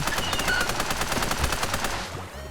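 Rapid machine-gun fire from an enemy in the boat survival game Raft rattles in a dense, continuous burst of shots before tapering off near the end.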